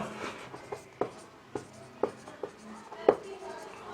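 Writing on a board during a physics lesson on Rutherford's alpha scattering experiment: a series of short, distinct scratching strokes at an uneven rhythm, close and moderately loud over a quiet room.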